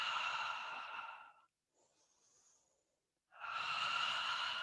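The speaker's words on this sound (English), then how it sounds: "Nice long full breaths." Slow, deep breathing during a mat Pilates exercise: a long, loud breathy exhale, a quiet pause, then another full, airy breath close up, with no talking.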